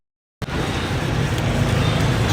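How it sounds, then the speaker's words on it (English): Busy street traffic in Ho Chi Minh City, a steady loud roar of passing vehicles that cuts in abruptly after a short silence and continues without a break. "traffic."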